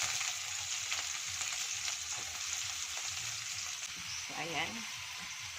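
Onions sizzle and fry in a pan while chicken feet adobo cooks. A steady, fairly soft crackling hiss runs throughout, and a voice briefly speaks over it near the end.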